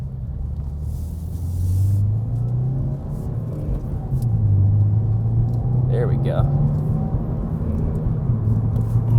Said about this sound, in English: I can still hear the exhaust, I can still hear that nice engine